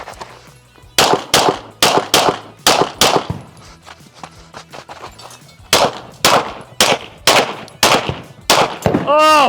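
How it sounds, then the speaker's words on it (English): Pistol gunshots ring out at USPSA shooting practice in quick bursts, loud and close with sharp echoing cracks in rapid strings, a pause, then more fast strings, ending with a ringing metallic tone. "Let's get to some more shooting."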